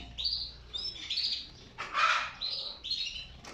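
Caged canaries chirp in short bright bursts of trilling song, broken by one harsher squawk, fairly close and clear with no talking.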